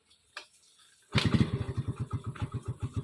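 A motorcycle engine starts after a short pause, catching abruptly and settling into a loud, steady, throbbing idle close by.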